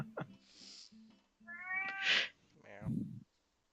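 A cat gives several meows, with a drawn-out, rising mewl in the middle and a shorter call at the end, close and fairly quiet against a silent background.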